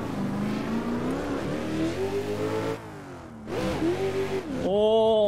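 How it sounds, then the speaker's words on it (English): Kevin Stump's Nissan 400Z VDC competition drift car revs hard in a second gear start, its engine note climbing and falling in loud, close sweeps, dropping briefly before surging again and rising to a high whine. "Do a second gear start here."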